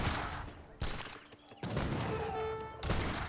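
Gunfire in an Age of Empires 3 battle crackles in repeated volleys, bursts of musket shots cutting in and out over a busy battlefield din, loud and close, with a short melodic chime partway through.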